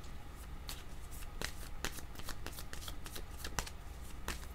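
Tarot cards being shuffled by hand, a steady run of soft riffling flicks and slaps repeating close up for several seconds, with no voices.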